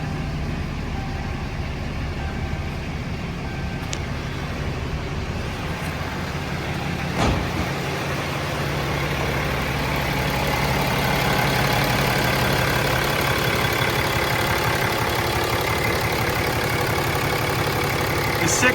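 A Ram 3500 pickup with the 6.7-litre diesel engine idles steadily close by, a continuous low rumble that grows slightly louder partway through, with a brief knock near the middle and no talking.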